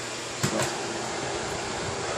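Miele S8590 Alize canister vacuum cleaner running on a low setting, a soft steady broadband whir with a couple of brief bumps near the start, continuous and fairly quiet with no talking.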